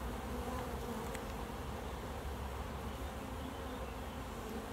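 Honey bees in an opened hive produce a dense, steady buzzing hum that fills the whole stretch, close and continuous with no voices.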